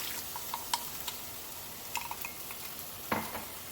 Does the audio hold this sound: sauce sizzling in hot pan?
yes